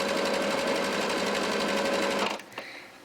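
Close domestic sewing machine stitching steadily over the pressed-open center seam of a hoodie hood, its motor whirring at an even fast pace before stopping with a faint click near the end.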